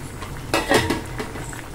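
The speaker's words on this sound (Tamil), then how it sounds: "இப்ப இந்த ஸ்டேஜ்ல நம்ம வடிகட்டி வச்சிருந்த ராஜ்மாவை சேர்த்துக்கலாம்" Drained rajma beans tipped into a pot of boiling gravy, a short burst of clattering and splashing with metal-on-metal knocks against the pot, heard up close.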